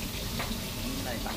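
Fish fries in oil in a pan, with a steady crackling sizzle close by and faint stirring noises.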